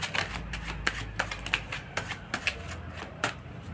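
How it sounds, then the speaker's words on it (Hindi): A tarot deck of Tarot of the Divine cards being shuffled by hand, a steady run of soft papery riffles and taps, close and fairly quiet, with no talking. "थोड़ा शफल कर रहे हैं"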